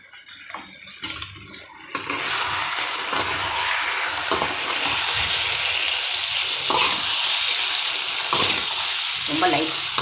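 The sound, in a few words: stirring food frying in a pan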